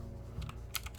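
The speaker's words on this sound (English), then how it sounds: "typing on this damn keyboard" Keys tapped on a computer keyboard, a few quick soft clicks in a short burst, faint and close against a low steady hum.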